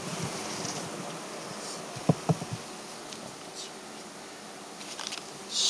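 Honeybees hum steadily and softly around an opened hive in an outdoor apiary in September, with a couple of brief knocks near the middle and faint wind around.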